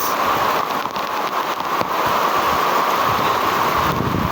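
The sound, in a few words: heavy rain on a hut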